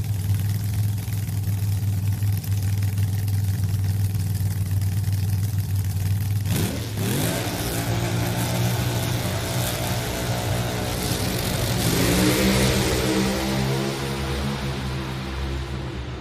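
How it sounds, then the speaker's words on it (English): Top Alcohol Funny Car drag racers at round two eliminations, engines idling loudly then launching side by side in a roaring, rising acceleration that sweeps upward and fills the track, steady and loud throughout. "Great side-by-side drag race"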